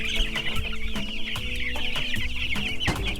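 A flock of about 130 Rhode Island Red chickens clucking and chattering inside a grower house, a busy, noisy chorus of overlapping calls with sharp taps and knocks throughout.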